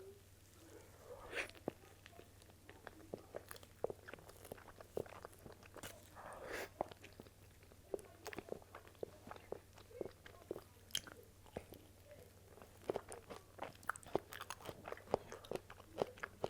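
Close-up chewing and biting into a soft, chewy mochi muffin, with wet sticky mouth sounds, smacks and small crunchy clicks scattered irregularly throughout, quiet and intimate, with no talk.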